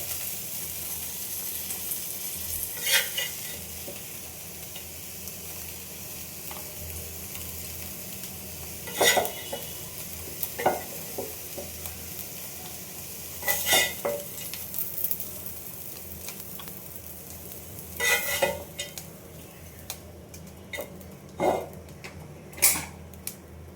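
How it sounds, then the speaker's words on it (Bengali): Bay leaf, cinnamon and cardamom frying in hot oil, heard as a soft, steady sizzle broken by several sharp spoon-on-pan clatters and stirring scrapes spread across the stretch, fairly close, with no speech. "এখানে তেজপাতা আর দারুচিনি এলাচ দিয়ে ভেজে নিলাম"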